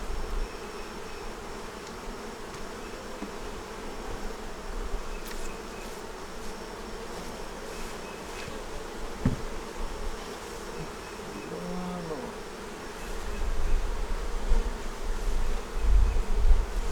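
A steady, dense buzzing of many honeybees close by around a hive, droning continuously with no talking, growing a little louder and rougher near the end.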